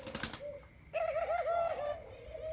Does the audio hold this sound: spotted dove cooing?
yes